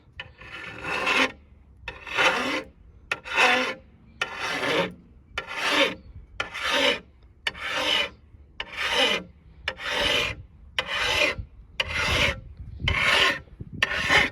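Steady rhythmic rasping of a file scraping back and forth along a Camaro ZL1's window tint edge, about a dozen strokes with short pauses between, close up and with no speech.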